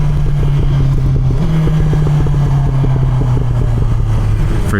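BMW S1000XR M Package sport-touring motorcycle running loud and close at a steady engine drone, with a continuous exhaust burble and rapid crackling pops as it downshifts without the clutch.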